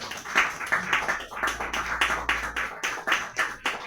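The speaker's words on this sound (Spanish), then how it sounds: "quiero pedir un aplauso para Alejandro" A small room of people claps for author Alejandro Vásquez at the Lima presentation of his book "Ashishita", a sparse, quiet pattern of distinct claps at a fairly even rhythm.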